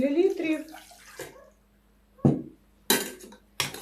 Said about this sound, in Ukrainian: я висипала вже сюди желе саме, додаю добре таку гарячу воду 300 мл